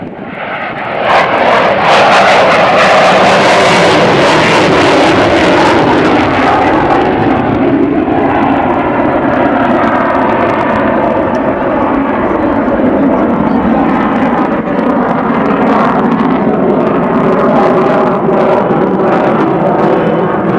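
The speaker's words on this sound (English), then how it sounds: "Butch selects full afterburner, raises his landing gear flaps and hooks, and commences a climbing spiral" An F/A-18 Hornet on full afterburner at an air show roars loudly and continuously as it climbs in a spiral, a broad jet rumble that shifts slowly in pitch as it moves overhead, with no voices.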